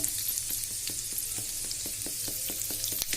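Fenugreek seeds, cumin and asafoetida sizzle in hot oil with a close, continuous crackling hiss, punctuated by light, regular spoon taps and scrapes against the pan.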